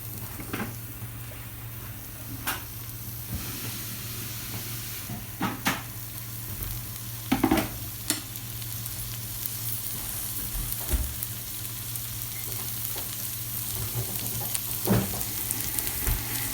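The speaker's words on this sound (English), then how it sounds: "I put onion, garlic on the stove and brown it" Onion and garlic browning in a pot on the stove, a steady close sizzle with occasional stirring clicks and scrapes, no talking.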